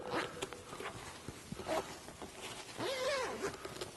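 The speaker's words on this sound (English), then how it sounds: "Zipper it down." A zipper on a Jeep JK roll cage padding cover is pulled down in a few short, raspy bursts, close by, with some rustling between pulls and no talking.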